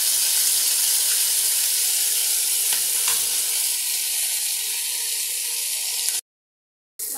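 Fish fry in hot oil in a pan and are turned over, a loud, continuous hissing sizzle with faint scraping and clatter, ending in a brief cut to silence.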